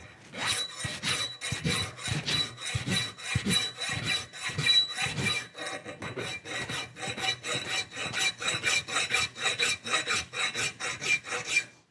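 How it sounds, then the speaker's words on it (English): Someone hand-files a metal bicycle fork in a workshop. The file rasps in steady back-and-forth strokes, close and clear, with a brief pause midway before a quicker run of strokes. "So you notice I got the file at an angle."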